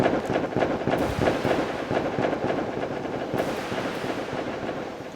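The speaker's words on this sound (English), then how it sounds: "it's getting even more crazy for the fireworks" Fireworks and firecrackers go off outside in a dense, continuous crackling barrage of rapid pops and bangs, loud and steady with no talking.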